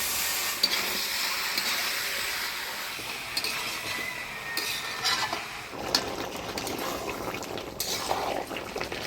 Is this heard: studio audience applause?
no